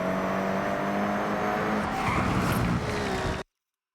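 A Toyota GR GT3 drifts in the Forza Horizon 6 racing game, its engine roaring steadily with tires skidding and squealing, loud and close for about three and a half seconds before cutting off abruptly.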